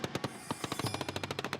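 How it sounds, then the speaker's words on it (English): Tank-mounted machine guns fire in rapid repeated bursts during desert street combat in Iraq, a steady chain of sharp, loud reports with no talking. "The tank's machine guns start firing, and eventually, gunshots cease."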